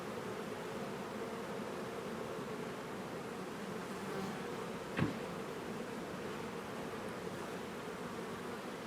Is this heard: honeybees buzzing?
yes